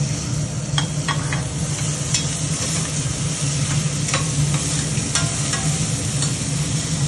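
Tomato rice with mint and spring onions stirred in a hot pan, a steady loud sizzle with occasional scraping clicks from the spoon, close and continuous, no voices.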